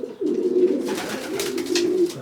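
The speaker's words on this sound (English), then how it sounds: "It's tremendous to have all the cocks in their boxes with their hens buzzing." Young pigeon cocks paired with hens in their loft boxes give a continuous, close, resonant cooing, a low throbbing murmur sustained without any talk.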